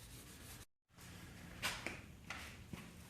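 A Scotch-Brite pad scrubs surface rust off the cast iron top of a Delta 12"/14" table saw, a steady close rubbing with a few firmer strokes and a brief pause, no voices.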